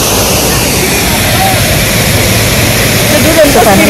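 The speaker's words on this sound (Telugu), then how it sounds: "అంతా హెవీ ఫ్లో." A waterfall at night carrying a heavy flow of water roars as a steady, loud, broadband rush throughout, with a faint voice briefly audible near the end.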